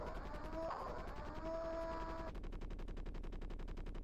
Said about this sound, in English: Heard some gunshots.